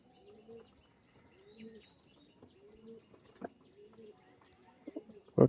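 A pigeon coos in soft, evenly spaced low phrases, about five rolling calls in a row, close and fairly quiet, ending with a few sharp knocks and rustles.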